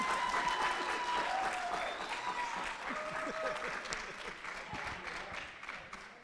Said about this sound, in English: I would clap a little louder